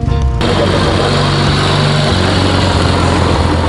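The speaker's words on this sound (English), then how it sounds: "The engine's a 650cc parallel twin." A 1959 AJS Model 31 motorcycle with a 650cc parallel twin engine and single monoblock carburetor runs steadily up close, a loud continuous drone with a low throbbing pulse that shifts pitch slightly partway through.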